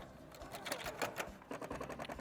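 Sewing machine stitching fabric for a bag, a quick, close, rapid rhythmic clatter of stitches running without a break over a couple of seconds.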